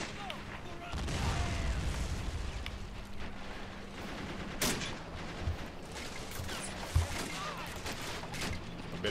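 D-Day battle in a war strategy game, with soldiers returning fire in a steady crackle of rifle and machine-gun shots and occasional distant booms, fairly faint overall, with a person talking over it.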